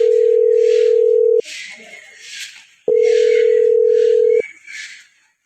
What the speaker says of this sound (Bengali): আমি একটু ফোন দেই।